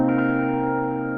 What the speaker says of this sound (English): The synth is an MKS 50, which is a rack version of a Roland Alpha Juno, and I have it plugged in and activated here.